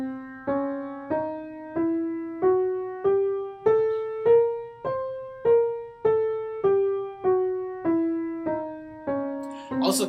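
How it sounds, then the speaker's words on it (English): A C half whole diminished scale played note by note, climbing and then descending in an even rhythm, each clear struck tone decaying before the next, heard alone and up close. "The scale to play on this would be a C half whole diminished scale"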